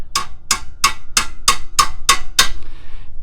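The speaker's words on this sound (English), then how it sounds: "So we get that in there. We hammer it in." Eight sharp metallic hammer strikes land in an even rhythm, loud and close, each ringing briefly before the next blow, hammering a limited-slip differential part into place on a Lexus IS300.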